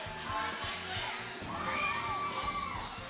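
People cheering and shouting together at a Saturday night speedway show, a lively crowd-like din of raised voices, fairly close and sustained throughout.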